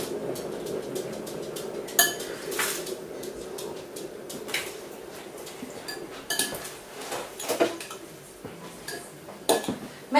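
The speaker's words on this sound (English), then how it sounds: "Grab a spoon, gently mix the sauce with the cauliflower." A spoon stirs cheese sauce through cauliflower in a dish, giving close, irregular scrapes and light clinks against the dish, with occasional louder knocks.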